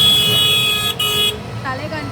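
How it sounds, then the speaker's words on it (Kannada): A harsh, sustained vehicle horn blares loudly in Bengaluru road traffic, breaking off briefly before cutting out after about a second. A quieter engine-like hum follows. "ಆ ಹಾರನ್ ಸೌಂಡ್ ಅಂತೂ ಕರ್ಕಶವಾಗಿದೆ ಲಿಟ್ರಲಿ."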